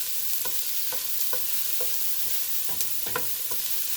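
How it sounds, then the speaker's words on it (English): Vegetables with onion and garlic fry in hot oil in a pan, a steady close sizzle broken by regular scraping strokes of a spoon or spatula as they are stirred, with no talking. "Add your oil, and then you're going to add your vegetables. All right, stir it up."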